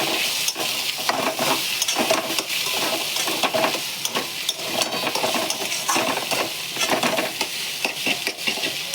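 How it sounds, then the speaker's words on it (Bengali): Eggs frying in oil in a pan for chowmein, a loud close sizzle with rapid, repeated scraping and clattering of a spatula stirring against the metal, and no speech. "এবার দুটো ফাটানো ডিম দিয়ে এটাকে ভালো করে ফ্রাই করব"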